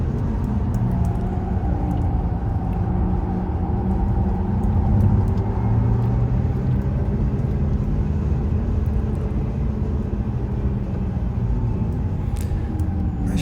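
A Porsche Taycan electric car accelerating down a race track straight, a loud continuous rumble of road and wind noise with rising motor whine from inside the cabin, steady throughout with no talking.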